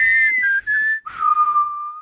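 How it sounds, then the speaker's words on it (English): A person whistles the low Mockingjay signal tune from The Hunger Games, a short, clear phrase of four notes that steps downward and ends on a long held tone. The whistle is alone, with no talk over it. "I can't whistle very well."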